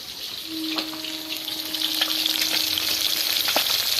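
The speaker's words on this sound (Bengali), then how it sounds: "আর এখানে মাছ ভাজা হচ্ছে" Fish frying in a pan, a close, steady sizzle with scattered pops and crackles that grows slightly louder and denser over time.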